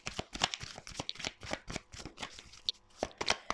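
Lenormand oracle cards being shuffled by hand, a quick run of close, crisp riffling flutters and soft slaps repeating irregularly, with no talk over them.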